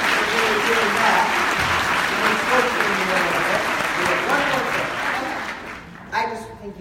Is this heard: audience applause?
yes